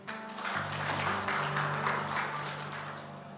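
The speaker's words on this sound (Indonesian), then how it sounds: "Tepuk tangan buat Tuhan." A church congregation applauding during a sermon, a sustained patter of many hands clapping at moderate distance, steady for a few seconds with some musical tones underneath.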